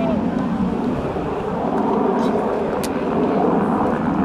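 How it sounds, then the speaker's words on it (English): An AV-8B Harrier II jet with a Rolls-Royce Pegasus engine passes at an airshow, a continuous loud roar with wind buffeting, heard beneath announcer commentary over the public address. "From the right, the Harrier."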